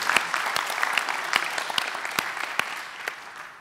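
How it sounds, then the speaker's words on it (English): A conference audience applauds for a presenter, steady dense clapping with a few sharper individual claps standing out, sustained throughout at moderate level without speech. "another round of applause for Jono"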